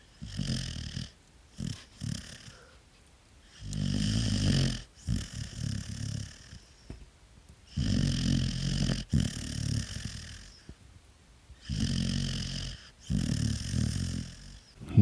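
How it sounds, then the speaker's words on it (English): A puppy asleep in someone's lap beside a campfire snores close by, with soft snuffling breaths rising and falling in slow repeated bursts and quiet pauses in between. "Got some good audio of the puppy sleeping by the fire."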